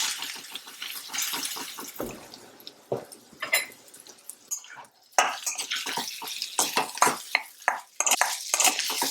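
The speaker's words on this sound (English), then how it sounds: "Mix it around" Wet, squelching stirring and scraping as a spicy ground moong dal kachori filling with green chilies and hing is mixed in a pan, a steady run of close, busy sounds with no talking.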